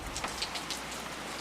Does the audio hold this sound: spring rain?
yes